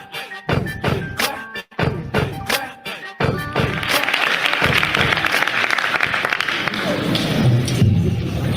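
A live audience at a comedy and music show bursts into loud applause, clapping sharply in scattered claps at first, then swelling into steady, dense clapping and cheering that continues to the end.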